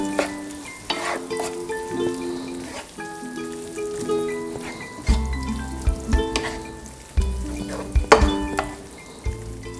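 Pipian stew fries and bubbles in a pan as it is stirred, with wet scraping and sizzling in repeated strokes under background music.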